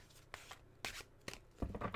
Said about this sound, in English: So give that a quick shuffle